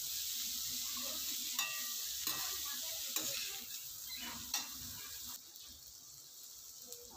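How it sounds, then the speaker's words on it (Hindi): Chaat ingredients stir-fried in a pan with a garam masala blend, giving a continuous close sizzle broken by a few soft scraping strokes of a spoon, with no voices. "चलाते हुए हम इसे अच्छे से फ्राई कर लेंगे।"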